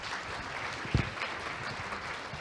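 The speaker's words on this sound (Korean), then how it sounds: "유임주 교수님의 열정적인 강연에 다시 한번 큰 박수 부탁드립니다" Applause from a conference audience at the opening ceremony and invited lecture of an electrical engineering society's summer meeting, a steady, moderate wash of clapping with one brief thump near the middle.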